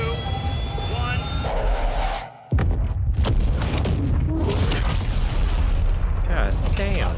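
An airstrike explodes on its target in Modern Warfare 2: a roaring jet-like rush cuts off into a brief hush, then a huge booming blast erupts and rumbles on loudly, with voices talking through it.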